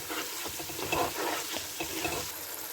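Two chopped tomatoes are stirred into a hot frying pan over a high flame, a steady sizzle running under repeated soft scraping and stirring strokes, close and continuous with no talking.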